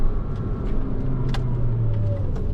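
Porsche Cayman with a built Carrera engine and mild suspension mods driving, a low steady engine rumble heard from inside the car with a brief rise in pitch.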